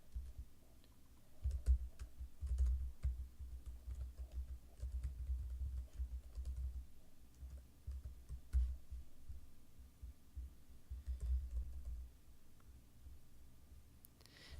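Keys tapped on a computer keyboard while an email, password and billing details are entered, a steady run of soft clicks with brief pauses, close and fairly quiet over a low room hum.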